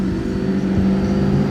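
A McLaren P1 runs in race mode on the Paul Ricard circuit, a loud steady low engine roar close by, with wind noise over it and no talk.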